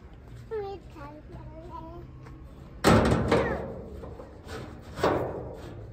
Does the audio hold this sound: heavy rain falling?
no